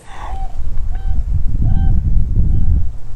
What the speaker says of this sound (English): You hear the goose?